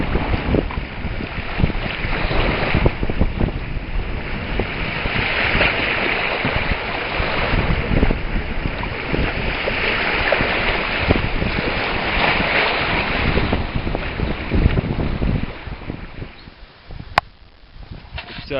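Strong, steady wind on a cold, wet wilderness expedition day buffets the microphone, with broadband rushing noise that eases near the end, followed by a brief sharp click.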